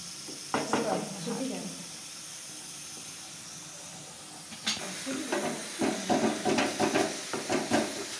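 Chicken is dropped into a curry pan and hisses into a steady close sizzle, with soft stirring scrapes building toward the end.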